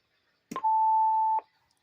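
A single steady electronic tone sounds from a telephone after record is pressed during a call, clear and close, lasting under a second with a click at start and end and no talk.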